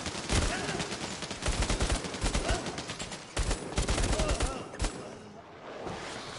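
Rapid gunfire in the VR shooter Bravo Team, with dense bursts of sharp cracks that come in quick, uneven volleys, loud and close, and a few short pauses between them.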